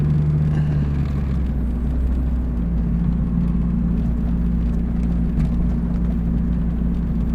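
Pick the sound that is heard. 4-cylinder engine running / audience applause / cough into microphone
4-cylinder engine running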